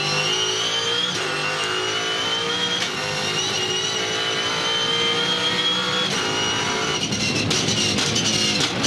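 A Supercar V8 race car at the Townsville 400 holds steady high-revving throttle, its engine note rising and falling in smooth progression, loud and continuous throughout.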